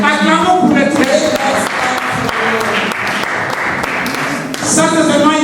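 A church congregation breaks into loud, steady applause during a French-language sermon, the clapping sustained throughout with voices and cheers mixed in.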